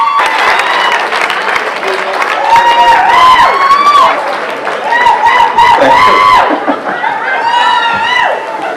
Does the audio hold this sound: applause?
yes